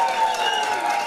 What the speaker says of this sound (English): one more round of applause for Daniel Towns, everyone